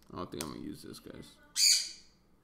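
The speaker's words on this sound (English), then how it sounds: "Guys, the bird's making too much noise." A pet bird lets out one loud, sharp squawk near the end, close by. A person talks just before it.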